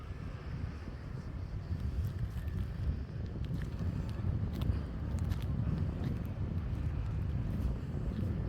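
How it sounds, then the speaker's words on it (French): Blustery beach wind buffets the microphone in low, rumbling gusts that swell and ease over several seconds, with faint crackles and no voices. "Bon, y a du vent, hein. Peut-être vous allez l'entendre dans la vidéo."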